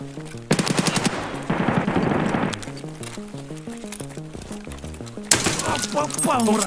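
Automatic gunfire in the video game Escape from Tarkov comes as rapid, loud bursts in two stretches, separated by a quieter gap. A voice talks over part of it.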